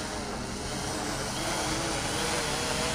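A Tovsto Aegean GPS quadcopter drone hovers in place, its propellers producing a constant, loud, broadband whirring drone that holds steady throughout without speech.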